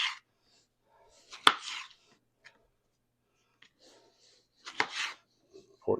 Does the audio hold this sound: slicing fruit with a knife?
yes